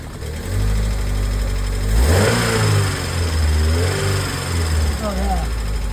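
A K series petrol engine transplanted into a former EV idles with a steady low rumble, then revs up sharply and settles back, with a person talking over it.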